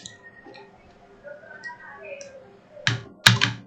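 Sparse computer keyboard typing: a few soft taps, then two sharper key clicks near the end, under faint background murmur.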